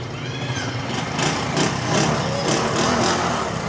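An old Honda motorcycle engine idles close by, a continuous throbbing rumble with slight pulsing rises.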